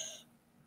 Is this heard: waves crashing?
no